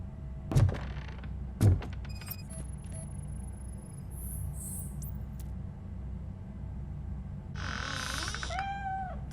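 Cat meowing in the video game RoboCop Rogue City, a short rising-and-falling cry near the end after a couple of dull thumps and quiet basement ambience.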